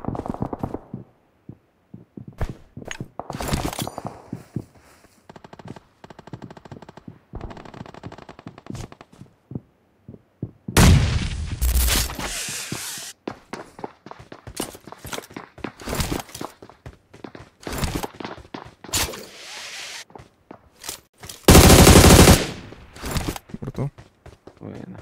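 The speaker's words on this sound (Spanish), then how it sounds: "Se escuchaban disparos." Gunfire in the battle-royale game PUBG Mobile during a duo-versus-squads match: bursts of rapid automatic shots and single cracks scattered through the clip, some near and loud, others distant, mixed with footsteps and occasional talk.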